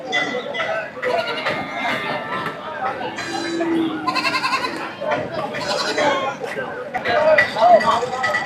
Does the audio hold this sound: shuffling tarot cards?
no